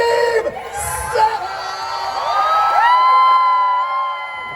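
A convention crowd at a Scream 7 panel at Scaradise cheers and whoops loudly, a dense roar of voices with high shouts rising over it, near and sustained throughout.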